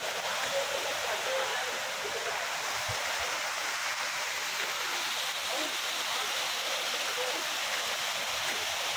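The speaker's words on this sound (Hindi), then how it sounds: "ये ऊपर पहाड़ों से पानी आ रहा है जी, इधर इकट्ठा होकर फिर सारा आ रहा है इधर पानी।" Hussainabad waterfall in Pakistan, with water rushing down from the mountains and collecting below, makes a dense, continuous roar that holds steady and loud throughout, close by, while a voice speaks faintly beneath it.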